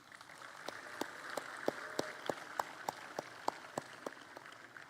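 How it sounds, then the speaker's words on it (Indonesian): A sparse round of applause at a public talk by a regional governor is heard as a few faint, distant, evenly spaced claps over a quiet room background. "Tepuk tangan dong."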